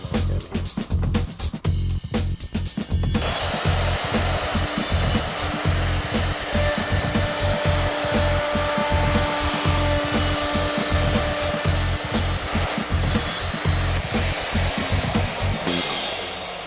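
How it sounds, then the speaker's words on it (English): Router cutting a rebate into MDF for a loudspeaker cabinet, a loud steady high-pitched whine that holds for most of the stretch after some brief start-up bursts. "I noticed you made 2 passes with the router"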